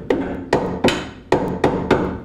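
Steel roll cage door-bar tubes with tight notches are tapped into place with a hammer: six sharp, close metallic thunks in an uneven rhythm, loud and near, with no talking.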